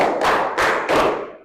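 Three hand claps from a group in a counting clapping exercise, loud and close, evenly spaced with a slight room echo after each.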